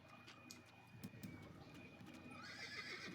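A horse neighs in the video game Assassin's Creed over outdoor ambience with birds cooing and hooves clip-clopping, heard at a moderate distance as a brief whinny amid steady background noise.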